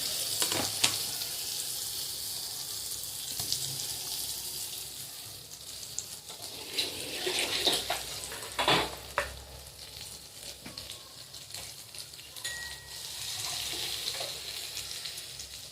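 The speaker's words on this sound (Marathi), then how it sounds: "चांगलं परतायचे, त्याला तेलामध्ये परतून घ्यायचे।" Chopped bottle gourd with salt stir-fries in oil, a continuous moderate sizzle with irregular scraping and stirring knocks, louder in bursts around the middle, with no one talking.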